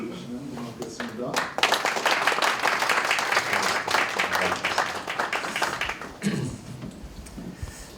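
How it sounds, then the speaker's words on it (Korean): Warm applause from a church-style audience welcoming a speaker to the stage, building quickly into sustained dense clapping before tapering off, with a voice heard near the end. "우리 장로님 나오실 때 기대하는 마음으로 열렬하게 환영의 박수로 올려주시면 고맙겠습니다"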